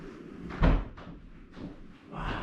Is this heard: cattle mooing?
no